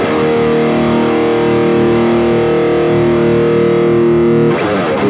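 Electric guitar through a BOSS GT-1000 amp model with a Tube Screamer boost in front, drive at zero and level full, bass boosted: a loud sustained distorted chord ringing out alone, then a brief scratchy strum at the end.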